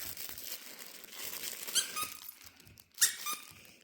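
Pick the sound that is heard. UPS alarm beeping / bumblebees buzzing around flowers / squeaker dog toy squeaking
squeaker dog toy squeaking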